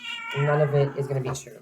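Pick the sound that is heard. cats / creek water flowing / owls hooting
cats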